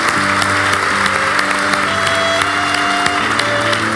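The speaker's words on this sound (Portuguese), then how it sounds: "Uma salva de palmas para a Luísa" An audience at a leadership summit applauds a panel speaker, a steady, dense wash of clapping from a large crowd that holds evenly throughout at strong volume.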